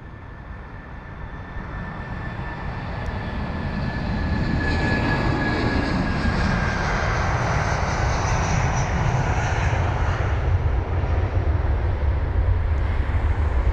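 An Airbus A319 takes off from London Heathrow, its jet roar building over the first few seconds and then holding as a loud, steady rumble with a faint whine on top.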